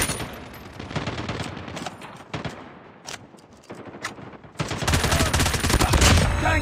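Call of Duty gunfire comes in sharp automatic bursts and scattered shots, loud and dense in places and broken by short pauses, with heavier rapid fire near the end.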